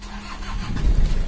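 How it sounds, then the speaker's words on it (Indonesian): The diesel engine of a 1998 Kijang Kapsul cranks briefly without glow-plug preheating and catches, settling into a low, steady running rumble, close by with no voices. "Nah langsung starter dia hidup."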